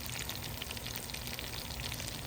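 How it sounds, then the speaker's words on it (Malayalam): Pepper-marinated fish fillet frying in a pan at home, giving a steady, dense sizzle and crackle throughout at moderate volume, with no voices. "ഇപ്പം നല്ല നമ്മുടെ ഫിലയെ നമ്മൾ ഫ്രൈ ചെയ്യിക്കുകയാണ്"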